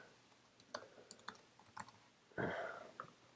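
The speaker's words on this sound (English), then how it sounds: "Then you type in your domain" Someone types on a computer keyboard in scattered quiet clicks, a few separate keystrokes followed by a louder burst of tapping near the end.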